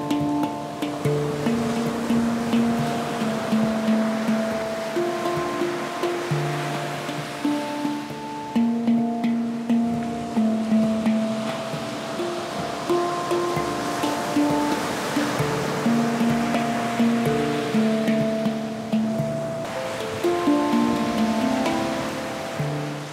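Ocean waves washing onto a beach make a steady broadband wash, heard under a calming handpan melody whose ringing tones carry on throughout.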